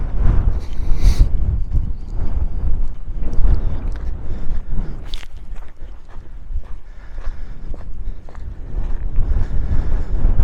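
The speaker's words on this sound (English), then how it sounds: "It's windy again, of course. You probably hear a little bit of it through the speaker." Steady gusty wind buffeting the microphone on a trail at Red Rocks Canyon, California, a loud low rumble with rustling throughout and no voices.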